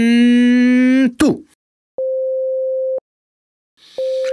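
A pure 500 Hz test tone from an ear-training game sounds twice as steady one-second beeps separated by silence, preceded by a brief tonal burst and click.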